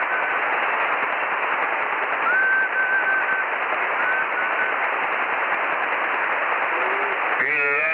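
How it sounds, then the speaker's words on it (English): On an HF amateur radio net, a faint thin tone, either CW Morse or someone whistling, wavers briefly in a few short bursts over constant band hiss, followed by a voice at the very end. "Either that's lousy CW or somebody's whistling."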